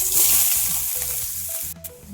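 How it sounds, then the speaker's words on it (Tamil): Onions and green chilies sizzle and crackle loudly in hot oil, with a few short stirring scrapes near the end. "ஒரு பெரிய சைஸ் வெங்காயமும் ரெண்டு பச்சை மிளகாயும் நறுக்கி வச்சுருக்கேன் அதை சேர்த்து வதக்கிக்கிறேன்"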